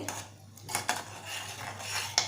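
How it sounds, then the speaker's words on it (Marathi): A spoon stirs thick Malvani horsegram flour curry in a metal pot, giving quiet scraping with a few sharp clinks against the side. "मस्त डवून घेऊया एक दोन तीन मिनटं आपल्याला पिठी छान उकळून घ्यायचं आहे"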